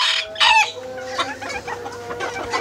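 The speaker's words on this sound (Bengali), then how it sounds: "এটা আমার খামারের সব থেকে ছোট একটা গোল্ডেন সেব্রাইট মুরগি" Clucking of a small Golden Sebright hen on a farm, a loud close burst of squawks at the start followed by a run of softer, busier clucks and chatter with no talk.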